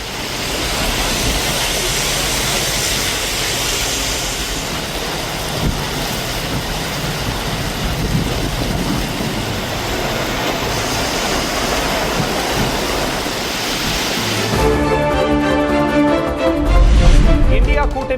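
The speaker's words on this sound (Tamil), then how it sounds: "சென்னை புறநகர் பகுதிகளில் பலத்த காற்றோடு கனமழை." Heavy rain driven by strong wind in Chennai's suburbs, a dense, steady roaring wash that continues loudly without letup, joined by music near the end, with a voice talking over it.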